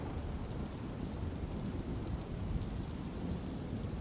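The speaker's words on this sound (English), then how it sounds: "thunderstorm like this. Bad storm." A thunderstorm gives steady, dense rainfall hissing over a surface, with low rumbling thunder running underneath throughout at a moderate, even level and no voices.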